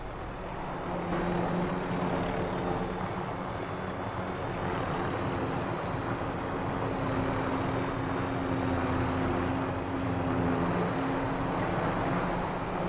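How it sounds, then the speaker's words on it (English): A helicopter drones steadily nearby in Call of Duty Warzone, a continuous low rotor and engine hum holding at a moderate level with no talk. "Someone else has a heli. That is actually a threat."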